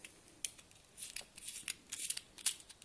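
A lamp socket being opened by hand: a series of small, sharp plastic clicks and snaps, quiet and close, scattered irregularly with several distinct clicks and no talking over them.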